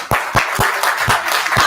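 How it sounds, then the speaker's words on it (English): Audience at a summit event claps in a few distinct, spaced hand strikes, roughly six sharp, close claps in under two seconds rather than a full sustained ovation. "A big round of applause for them."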